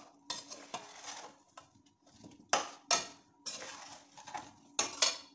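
Spoon stirring amla pickle with ground chili powder in a metal pan, giving repeated scraping clinks and clatters in uneven bursts, fairly close, with no talking.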